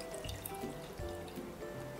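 Excess water drips and trickles from freshly pressed chhena, soft wet patters falling in an irregular rhythm, close and fairly quiet, with no voices.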